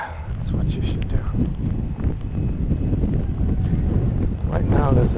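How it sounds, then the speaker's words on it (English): Strong gusts of wind buffet the microphone outdoors, a steady low rumbling roar that lasts throughout and swells louder near the end. "Right now there's a big gust of wind blowing."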